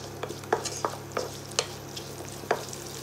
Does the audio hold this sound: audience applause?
no